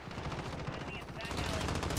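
Rapid automatic gunfire from a Call of Duty: Modern Warfare multiplayer Hardpoint match on the Shoot House map, a dense continuous burst of shots that swells louder toward the end.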